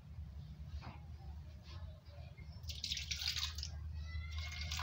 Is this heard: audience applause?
no